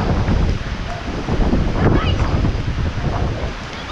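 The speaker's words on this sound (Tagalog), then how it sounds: "Yung hangin niya bigla paikot." Strong swirling typhoon wind roars steadily and close, buffeting the microphone in continuous broadband gusts, with rain and surf-like rushing noise layered throughout and no pauses.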